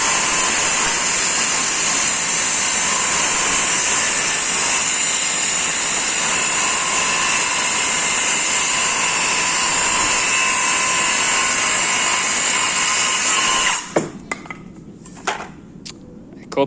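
An Aldi Ferrex battery-powered circular saw on a low battery runs loud and steady with a high whine for about fourteen seconds, then stops abruptly, leaving a few sharp knocks and clatters.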